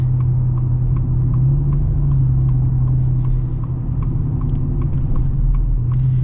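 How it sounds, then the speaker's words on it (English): A deep, loud exhaust rumble drones steadily from a lowered 2025 Ford F-150 Black Widow truck, a constant low throb with faint ticking on top. "the exhaust, I mean, it's a loud rumble."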